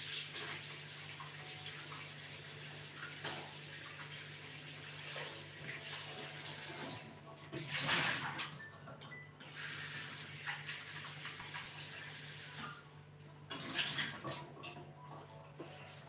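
A tap runs steadily and quietly while mushrooms are washed, with a faint hiss and occasional brief splashes and handling noises.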